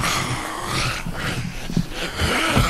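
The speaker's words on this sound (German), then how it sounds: "Ah, Hund!" A dog in the video game 7 Days to Die growls, a low rough snarl over dense noisy game ambience, fairly close, with no talk.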